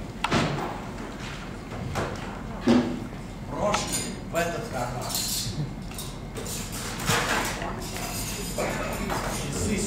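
Spoons and metal cutlery clink and clatter on a table in scattered bursts, with occasional thuds and quiet voices in the background.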